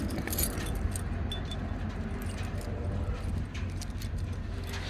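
A bunch of keys jangles and clinks close by while a locking gas cap on a truck is unlocked, a steady metallic rattle over low outdoor background noise at a gas station.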